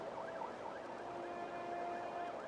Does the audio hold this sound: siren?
yes